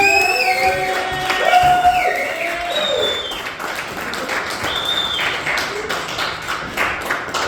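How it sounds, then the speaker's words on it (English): A small comedy-club crowd claps and cheers, with scattered whoops and a few voices calling out over the applause. "Please put it together, hands together for another one of my friends, Mr. Mo Green."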